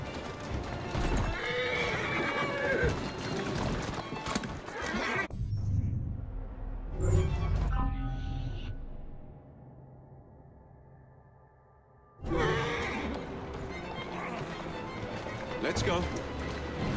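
Hooves clip-clop at a steady trot and a horse whinnies loudly in Assassin's Creed Syndicate, with game sound effects, music and voices around them.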